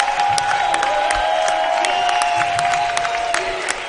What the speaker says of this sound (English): the crowd's going to get involved in this game